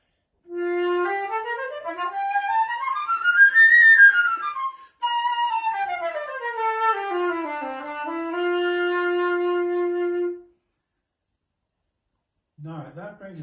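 A flute played with correct embouchure runs a clear, full-toned scale up and down over two octaves in two phrases, ending on a long steady low note; close and solo, with a voice starting briefly afterward.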